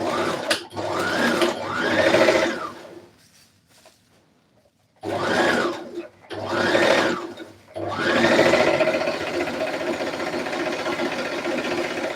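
A sewing machine stitches the side seams of a red carpet dress in several bursts of fast whirring, close and loud, separated by short pauses, with a long steady run at the end.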